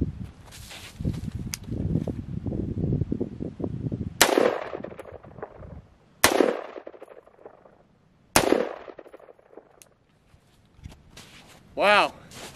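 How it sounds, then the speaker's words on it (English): Several sharp gunshots ring out at a shooting range during a test of Caldwell E-Max Pro hearing protection, three loud cracks a couple of seconds apart with fading echoes, after a stretch of talking. "we're gonna do a couple test shots to just do our initial reaction to the"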